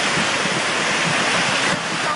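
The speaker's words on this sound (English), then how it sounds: "There's so much water." Floodwater from a flash flood rushes down a creek in a loud, continuous roar of churning water, dense and steady from start to finish.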